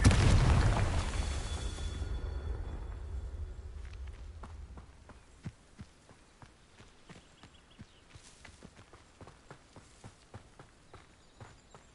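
The Confringo fire spell detonates in Hogwarts Legacy with a loud booming blast that rumbles and slowly fades, followed by a quieter run of evenly spaced footsteps and small clicks.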